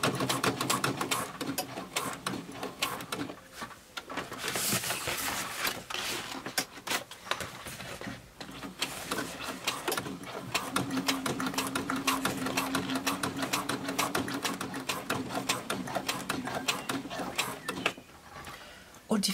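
A sewing machine stitches fabric at a 3.5 stitch length, a rapid steady mechanical patter close by that runs almost continuously with short pauses.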